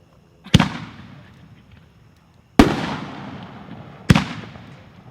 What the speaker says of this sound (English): First item up here is Neon Viper Shell. We'll be shooting 4 of these.